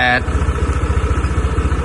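A Honda PCX motorcycle engine idles steadily after starting, a close, even low thrum with a regular pulsing rhythm that carries on unbroken after a brief electronic beep at the start.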